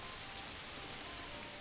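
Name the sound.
rain in the video game Manor Lords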